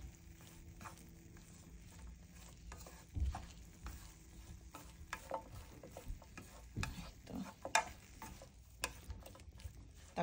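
Garlic and green chillies fry quietly in a pan for a bean and dried-fish mash, with a soft sizzle under repeated scraping and clinking stirs from a utensil.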